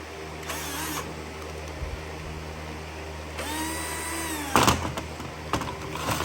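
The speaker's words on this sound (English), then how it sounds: "I do have a faster screwdriver than that." A power screwdriver backing screws out of a Ford F350 7.3 Powerstroke starter, two short whirring bursts a few seconds apart with light clicks and clatter between, close up.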